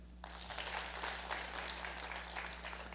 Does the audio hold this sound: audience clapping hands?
yes